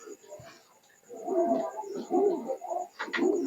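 A young teddy pigeon gives soft, close cooing bursts in quick succession, while someone talks nearby.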